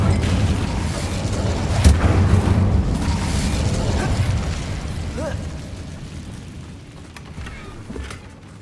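Incendio fire spell cast in the Hogwarts Legacy video game, a loud whooshing burst with rumbling booms that swell then fade over several seconds.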